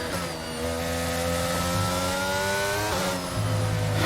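A Formula 1 car in the F1 22 video game spins out, its engine note holding a steady whine with harmonics that waver and dip near the end, loud and alone without talk.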